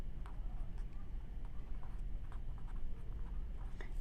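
Pen or marker writing by hand on a surface during a percent-of-change math lesson, a faint scratchy rhythm of short strokes and taps over a steady low background hum.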